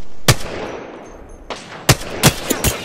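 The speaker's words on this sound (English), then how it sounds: "I am taking fire, friends." Gunfire from the Apex Legends video game sounds as several sharp, separate shots spread unevenly over a few seconds. The cracks are close and punchy over a low background hum.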